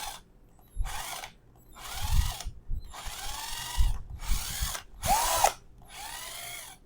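A battery-powered cordless electric screwdriver tightening a screw whirs in a run of short bursts, with brief quiet pauses between each whine and one sharper spin near the end, heard up close with no talking.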